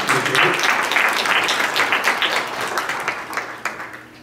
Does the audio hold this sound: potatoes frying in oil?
no